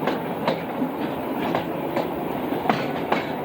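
A restored interurban train rolling along rails at the Ohio Railway Museum with a steady rumble and periodic clickety-clack of wheels over track joints, heard from inside the car.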